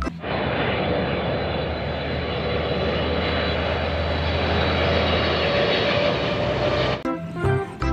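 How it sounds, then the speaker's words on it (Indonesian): A toy airplane, one of a collection of toy vehicles, gives a loud, steady engine-like roar that holds for about seven seconds, then cuts off abruptly into brief handling clatter. "Ini ada pesawat terbang."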